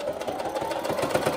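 A domestic sewing machine stitches leggings fabric, its needle running in a fast, even, close rhythmic whir with no voices over it.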